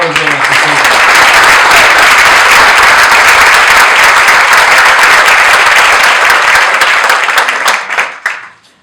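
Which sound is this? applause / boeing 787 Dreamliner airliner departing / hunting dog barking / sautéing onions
applause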